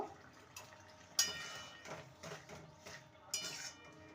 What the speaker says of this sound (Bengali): দিয়ে দেবো গরম মশলার গুঁড়ো হাফ টিস্পুনের মতন ভালো করে নেড়ে নেব